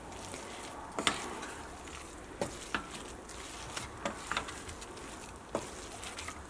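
A green gram mixture for laddu is stirred in a pan over a low flame, giving a soft continuous sizzle broken by scattered spoon scrapes and clicks, close and fairly quiet, without speech.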